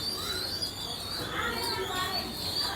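Pigeons being gathered before a release, with soft cooing and chirps close by over a murmuring background of faint voices.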